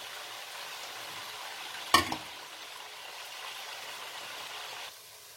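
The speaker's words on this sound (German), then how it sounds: "Zwiebel kann Sie so lange braten, bis sie jetzt so braun werden, richtig braun, so golden braun." Onions frying in a pan for a Pakistani-style chicken curry, a soft continuous sizzle with one sharp clatter near the middle, and the hiss dropping away toward the end.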